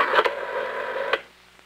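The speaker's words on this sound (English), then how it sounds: "I dial the digit 8 to get access to the system." Vintage 1964 telephone system being dialed for access, a short buzzy tone lasting about a second with faint clicks at the start and end, close and alone.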